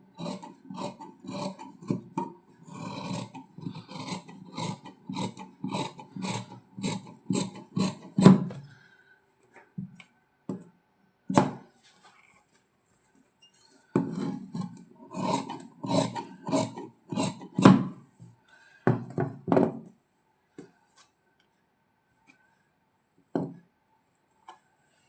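Fabric shears snipping through blouse sleeve cloth during tailoring, a run of quick rhythmic crisp cuts, a pause, another burst of snips, then a single last cut, close and clear with no talking.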